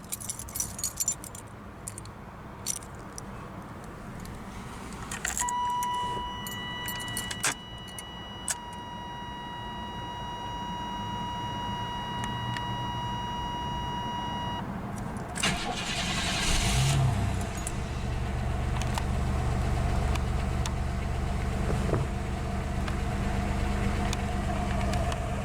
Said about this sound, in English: we'll go ahead and start her up.